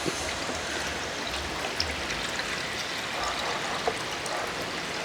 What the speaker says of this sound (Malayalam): ഇപ്പോൾ ചട്ടി ഒന്ന് ചൂടായ ശേഷം നമ്മൾ ഇതിൻ്റെ അകത്തോട്ട് കുറച്ച് വെള്ളം ഒഴിക്കുക